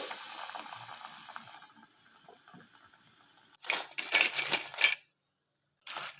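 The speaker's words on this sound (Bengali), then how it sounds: "কতটা সুন্দর করে ভেজে নিয়েছি কোনো রকম কিন্তু চুঙে পুড়ে যায়নি একইভাবে ভেজে নিচ্ছি" Pieces of bitter gourd fry in hot oil with a steady, fairly soft hiss for several seconds, then a burst of close clattering from a cooking utensil before it cuts to silence.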